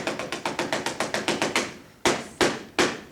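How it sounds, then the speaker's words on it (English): Rapid knuckle raps on a door during a stage play, a quick run of about a dozen even knocks followed by three louder, slower knocks, close and clear with no talking. "There's someone at my door, Helen."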